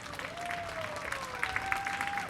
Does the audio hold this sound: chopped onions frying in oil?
no